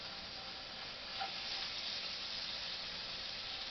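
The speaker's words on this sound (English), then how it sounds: "And let those shrimp sizzle." Shrimp searing in a hot pan with a splash of olive oil give a steady, soft, close sizzle and hiss that holds level throughout, with no voices.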